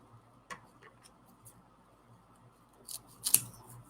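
Scissors snip through fabric ruffles, a few faint, sparse cuts and clicks with a sharper snip near the end, in a quiet room.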